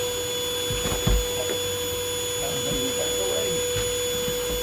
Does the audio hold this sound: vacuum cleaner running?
yes